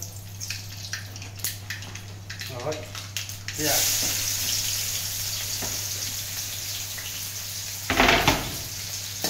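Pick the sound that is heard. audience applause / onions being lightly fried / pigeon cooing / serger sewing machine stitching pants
onions being lightly fried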